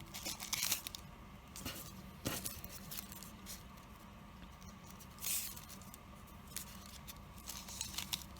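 Scissors snip through paper strips for a koinobori flag, a series of quiet, irregular crisp cuts and rustles close by, with no voices.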